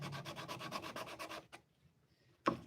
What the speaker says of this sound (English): start sanding down these edges